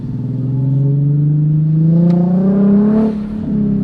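A Nissan 370Z Nismo with a full Tomei Ti Expreme exhaust revs at low RPM in a neighborhood, giving a loud, close, rising engine note that climbs and then drops off, with no talking.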